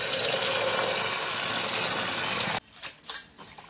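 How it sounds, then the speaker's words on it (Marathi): Coriander leaves being rinsed under running water in a kitchen: a steady, close gush of water for about two and a half seconds, then it cuts off, leaving a few light splashes and handling sounds. "म्हणून चांगली 4-5 पाण्याने धुवून घ्यायची"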